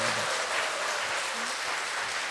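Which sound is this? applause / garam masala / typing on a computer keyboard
applause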